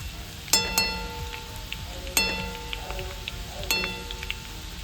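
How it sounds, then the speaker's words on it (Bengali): Crispy shredded potatoes fry in hot oil for a Sheetala puja meal, with a soft steady sizzle under several sharp metallic clinks of a utensil against the pan. "এখানে আমি আলু ভাজা ভাজতে বসেছি"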